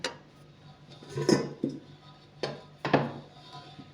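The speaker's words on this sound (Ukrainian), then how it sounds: "ми зіб'ємо яйця із сахаром" Whisk or spoon knocking against a bowl while eggs are beaten with sugar for baking, a few irregular clinks and taps over a quiet kitchen hum.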